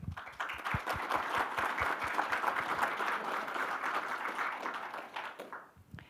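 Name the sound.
applause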